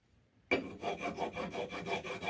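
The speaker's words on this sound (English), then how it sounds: "Maybe the rasp is the way to go about it." A rasp files a wooden axe haft for a vintage Rixford axe head, starting abruptly after a quiet moment and settling into about eight quick, rhythmic strokes, close and clear with no talk.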